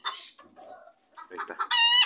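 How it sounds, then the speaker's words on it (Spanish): Hens giving a loud alarm-like cackle after laying an egg in a backyard coop, a few scattered clucks building into a sustained, close, ringing squawk at the end. "Y esa es la alarma que les decía que hacen los gallos."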